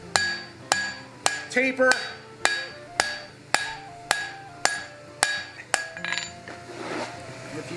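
A hand hammer strikes hot steel on an anvil while forging an axe, about a dozen sharp ringing blows in a steady rhythm, up close, with a brief spoken word.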